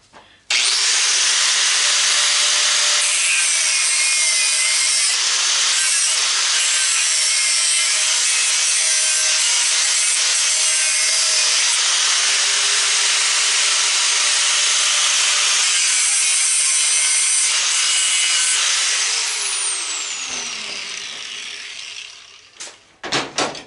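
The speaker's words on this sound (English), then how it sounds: "Angle grinder again, folks." An angle grinder cuts through the steel of an old electric motor, a loud sustained high-pitched screech that holds steady for about twenty seconds before winding down, close and alone.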